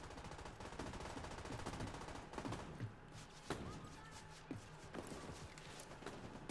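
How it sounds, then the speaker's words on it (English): Fast automatic fire from a Thompson gun in The Division 2 rattles steadily throughout, with occasional louder shots and footsteps mixed into the busy, fairly distant firefight. "What gun are you shooting"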